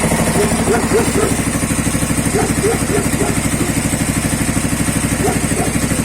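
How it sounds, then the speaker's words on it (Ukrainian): A small 7-horsepower four-stroke petrol engine on a generator runs steadily at idle, a continuous close chugging drone with faint mechanical clatter and no change in pace. "Бензиновий двигун 7 кобил. Чотирьохтактний."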